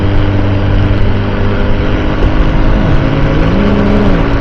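A motor vehicle runs close behind a food delivery rider in Saudi Arabia, a loud steady engine drone with road noise and a slight rise in pitch, no talking.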